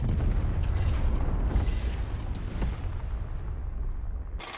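Torpedo explosion sinking an enemy ship in the War Thunder Mobile video game, a deep rumbling boom that fades slowly with creaking mechanical noise.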